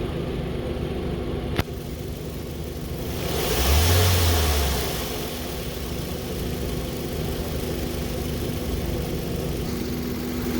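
A car engine in an automotive lab revs up once as the throttle is pressed, rising to a swell around the middle and falling back to a steady idle, with a sharp click early on.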